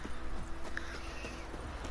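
Horse hooves clip-clopping in The Witcher 3 video game, a steady walking rhythm of soft repeated hoofbeats over continuous game ambience.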